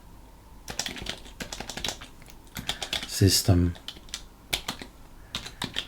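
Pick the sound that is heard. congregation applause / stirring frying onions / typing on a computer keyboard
typing on a computer keyboard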